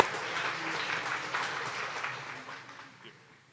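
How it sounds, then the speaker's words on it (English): Audience applause at a Western Dairy Expo heifer show, steady dense clapping from a crowd that fades out toward the end, fairly near and moderately loud. "Let's give Ron a big round of applause for his contributions to the show industry."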